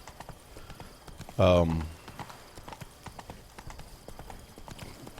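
Hooves clip-clop steadily from the horse in the video game The Witcher 3: Wild Hunt. A voice breaks in with a short exclamation, and a loud burst of game sound plays over the hoofbeats.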